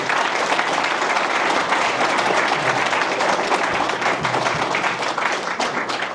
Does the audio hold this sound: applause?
yes